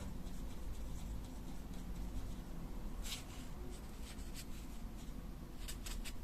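Neocolor II wax pastel crayon rubbed across paper to blend blue with yellow, a soft, close, continuous scratchy scrubbing with a few sharper strokes.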